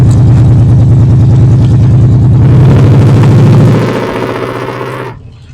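A 1969 Daimler V8 250 engine drones loudly and steadily under load while driving, a deep close throbbing that rises slightly in pitch and then eases off and fades out.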